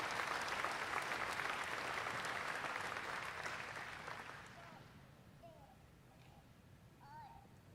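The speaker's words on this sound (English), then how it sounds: "let's give all these outstanding young people and scholarship recipients a round of applause" Audience applause for young scholarship recipients at a state fair sale of champions, loud and dense for about four seconds, then fading out to a quiet room with a few faint voices.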